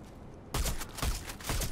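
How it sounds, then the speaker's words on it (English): Burst-fire weapon shooting in the video game Warface, sharp rapid bursts of gunfire starting abruptly after a quiet moment, loud and close. "It's a burst firing weapon."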